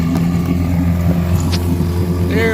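A 1960 Evinrude 10hp outboard motor idles loud and close, a steady low droning hum with a faint whine rising near the end, running alone without any voices.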